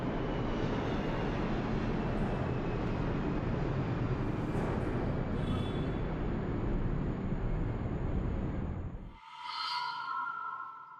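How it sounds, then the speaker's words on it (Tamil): An airplane passes overhead, a broad steady roar filling most of the stretch before cutting off abruptly, followed by a quieter tail of tonal whines and hums. "ஃப்ளைட்டு போகுது கைஸ்."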